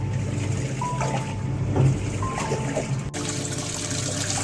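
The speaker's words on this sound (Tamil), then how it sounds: "தண்ணி ஃபுல்லாகிடுச்சு. தண்ணி சூடாக வருது." Hot water gushes and trickles into a top-loading washing machine drum, with a steady splashing flow and faint mechanical hum, a couple of brief higher tones breaking through.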